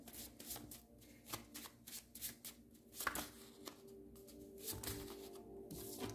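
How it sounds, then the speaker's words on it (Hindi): Oracle cards being shuffled up close, a run of quick papery riffling bursts and soft slaps repeating steadily for several seconds with no voices. "एक और कार्ड निकाल लेते हैं।"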